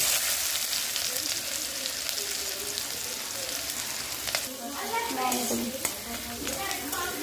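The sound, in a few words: chopped onions frying and being stirred in a pan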